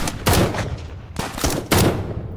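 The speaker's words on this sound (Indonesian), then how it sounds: "Saat Dean menodongkan senjata, semua polisi menembak Dean." In a police film scene, several officers open fire on a man, loud overlapping gunshots in three dense volleys, close and sharp, with no speech.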